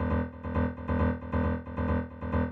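A Roland Zenology Pro software synthesizer plays its default initial tone: a steady, harmonically rich note repeated in about six even pulses with no pauses, heard alone.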